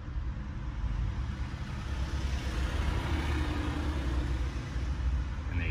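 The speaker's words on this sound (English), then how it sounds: "Here comes a truck." A truck rolls past a roadside license plate camera, a steady, fairly faint rumble of engine and tires that holds throughout without talk.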